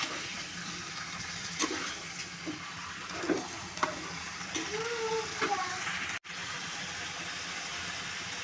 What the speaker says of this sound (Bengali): আমার মানে আলুটা ভাজা হয়ে গেছে এখন আমি ফুলকপিগুলো দিয়ে দেবো